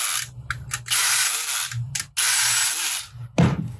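A small drill drives screws into a Nerf blaster, with several bursts of whirring and ratcheting close up, separated by short pauses and ending in a brief clunk.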